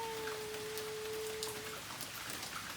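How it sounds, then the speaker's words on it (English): Rain falls steadily outdoors as a soft, even hiss, faint and continuous, with a thin tonal hum beneath it for the first part and no voices. "It's raining right now."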